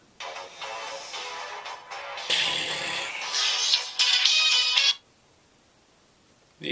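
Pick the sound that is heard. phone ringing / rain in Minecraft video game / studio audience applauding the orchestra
phone ringing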